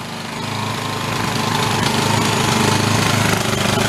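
An old free generator engine runs slightly rich with its throttle hunting, producing a loud, close, continuous buzzing drone that swells a little in level as it holds its rpm.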